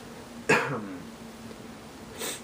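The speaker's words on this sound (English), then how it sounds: "Didn't really have to cough, but there's like some in my throat." A single sharp cough, close and abrupt, fading into quiet, followed by a softer throat-clearing sound a moment later.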